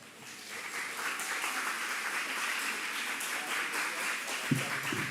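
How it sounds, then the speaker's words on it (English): An audience at a youth symposium in Manchester applauds with steady, dense clapping that holds at an even level throughout. "Don't have to clap louder than that, man."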